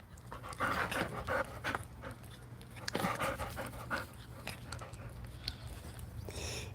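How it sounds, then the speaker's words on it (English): Two hungry dogs panting close by, a fast steady rhythmic huffing with some chewing and licking noises, fairly quiet over a low hum. "going live with a couple hungry dogs."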